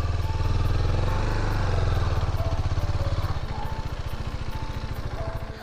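A motorcycle engine running close and loud with a steady throbbing rumble that shifts into a faster, choppier pulse partway through, with faint background noise.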